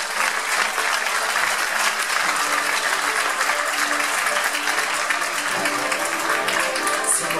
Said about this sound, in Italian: vi chiedo ancora un fortissimo applauso